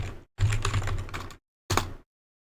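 Keys on a computer keyboard are tapped quickly in a short close burst, then one separate keystroke follows after a brief pause, like pressing enter, in a quiet room.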